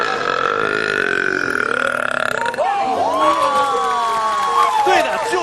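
A man burps repeatedly with drawn-out, voiced belches, one long then several shorter ones, close and loud, as a party-trick talent shown at an audition.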